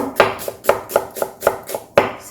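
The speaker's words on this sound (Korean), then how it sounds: "영양파를 가늘게 쓰시면 돼요." A knife thinly slices a red onion on a cutting board for a chive pancake, producing about eight crisp, evenly spaced chops heard up close.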